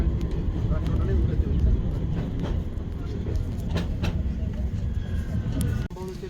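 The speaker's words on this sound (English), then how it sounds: "We are going to stay on this tram all the way to Piccadilly station." A Manchester tram rolls along toward Piccadilly station with a steady rumble and intermittent rail clacks, with a short squeal near the end, heard from inside the carriage.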